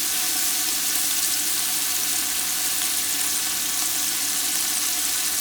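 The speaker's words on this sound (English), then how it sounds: "Let you experience that sizzle for a little bit longer." Tripe searing in a hot pan gives a loud, steady broadband sizzle and crackle that runs unbroken from start to finish, close up and without any talking.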